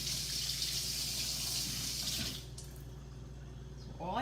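A kitchen faucet runs water steadily for a couple of seconds while a stick is wetted under it, the broadband stream dropping off abruptly midway, leaving a quieter hum before a brief clatter near the end.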